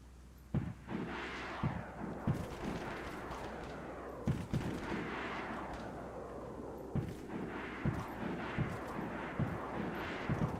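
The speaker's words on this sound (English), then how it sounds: "You're supposed to be able to shoot this aircraft down" Repeated gunshots ring out in a DayZ gunfight aimed at an aircraft, loud irregular cracks in bursts over a steady low rumble of engine noise and background din.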